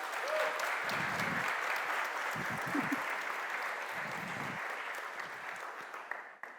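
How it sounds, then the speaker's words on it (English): Audience applause at the revo.js 2023 tech conference opening, a steady dense wash of clapping from a large crowd that holds throughout and fades slightly toward the end. "So please, a huge round of applause to Orla."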